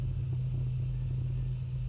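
A Douglas DC-6 piston airliner in the Prepar3D flight simulator drones with a loud, steady low engine hum and rumble, heard continuously from inside the cockpit with no talk.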